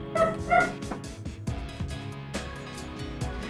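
A dog barks as a game sound effect, a couple of sharp yips followed by a quick run of short, close barks at a steady pace.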